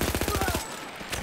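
A fast burst of close, loud machine-gun fire in Battlefield 1, about nine evenly spaced shots in half a second, then quieter background noise with a faint later shot.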